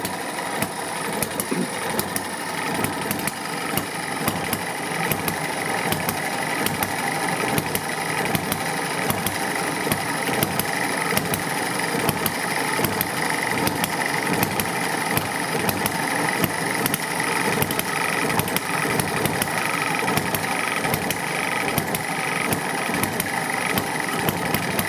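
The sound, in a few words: hit and miss engine running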